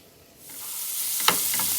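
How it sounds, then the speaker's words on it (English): Ground beef browning in bacon grease in a pan with onions, a steady close sizzle that swells after a quiet start, with a brief clink of a utensil chopping and stirring the meat. "In the bacon grease, I am just chopping up and browning the ground beef."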